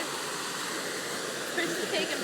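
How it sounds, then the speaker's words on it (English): Thin trickle of meltwater at a frozen waterfall where the ice has broken apart, a steady broadband wash heard up close outdoors, rising slightly near the end, with no talking. "Water's trickling a little bit."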